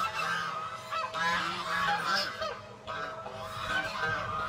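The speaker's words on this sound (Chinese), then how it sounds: "散养大鹅。" Free-range geese at a rural countryside restaurant honk repeatedly in a noisy, overlapping chorus, loud and close throughout.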